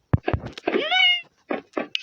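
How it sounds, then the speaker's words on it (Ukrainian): A cat lets out a single drawn-out, rising-then-falling meow, close and clear, set among a few short bursts of nearby sound. "Оце кіт."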